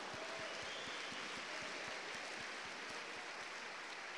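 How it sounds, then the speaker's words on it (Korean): A church congregation claps together at a revival conference, a steady wash of many hands with sharp individual claps standing out, continuous and fairly faint throughout. "박수. Palmas!"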